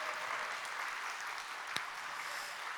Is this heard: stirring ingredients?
no